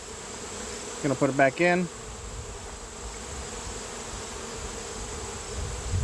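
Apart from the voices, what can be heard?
honey bees buzzing at an open Layens hive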